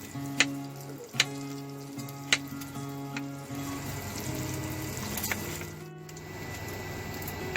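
Fat sizzles steadily in a frying pan while cooking in a truck, a soft continuous crackle with a few sharp ticks and clinks of utensils near the start, close and moderately quiet, with no talking.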